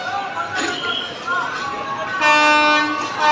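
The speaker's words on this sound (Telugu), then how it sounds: "ఈ రోజంతా ఈ ట్రాక్ పైన ట్రైన్లు నడుస్తున్నాయి" A train runs along the railway track near a bridge in Anantapur, giving a low rumble while someone talks, then a loud sustained horn blast closes the clip.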